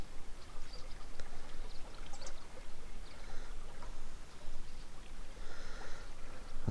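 Fast creek water on the Murray River at Katarapko Creek rushes past, carrying weed downstream, in a soft, steady broadband hiss that continues without pause and without voices.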